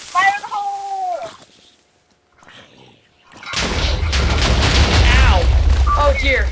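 In a video game, a brief spoken line gives way to a loud, rumbling explosion that rolls on for several seconds while voices carry on over it.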